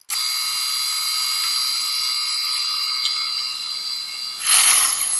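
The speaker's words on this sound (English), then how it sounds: "Now I move over to the bandsaw to cut out the mortises for the center stretchers that will go the long direction of the table." Bandsaw cutting mortises into wood for a trestle table, a steady loud high whining drone that holds for several seconds, then a brief harsher surge near the end, no talking.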